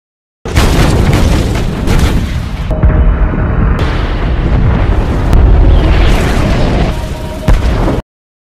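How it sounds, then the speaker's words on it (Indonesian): Heavy booming blasts from naval ship cannons bombarding a cliff roll continuously, loud and close, pounding the target in quick succession. "mereka dibantu oleh meriam-meriam dari kapal angkatan laut untuk memborbardir tebing tersebut"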